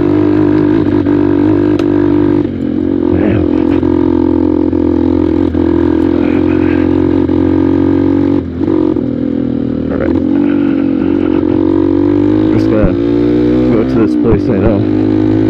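A commuter motorcycle rumbles steadily along a dirt road, its engine drone constant with small bumps and rattles, while a rider talks over it throughout.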